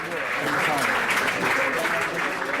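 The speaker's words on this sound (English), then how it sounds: "the French give him a nice round of applause for his performance here" Applause rises from a crowd in the lobby at a World Poker Tour event in Paris, a dense, continuous patter of many hands mixed with voices and crowd murmur.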